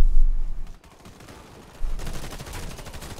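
Rapid automatic gunfire in the online shooter Warface during a team deathmatch round, loud bursts of rattling shots that pause briefly, then resume as a dense continuous volley.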